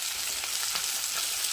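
Fish frying in a pan while being stirred, heard as a steady close sizzle across the clip with faint soft scraping pulses and no talk.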